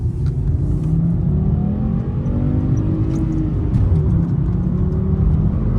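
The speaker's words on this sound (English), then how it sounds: "Go out and rev her out in first." A $1000 economy car revs out in first gear, its loud, steady engine drone climbing gradually in pitch over a deep, rumbling low end.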